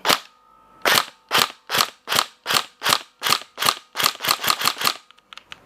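Tokyo Marui HK416 Delta NGRS electric airsoft gun firing, about a dozen sharp, loud semi-auto shots at a steady pace that speeds up toward the end, followed by a few faint mechanical clicks.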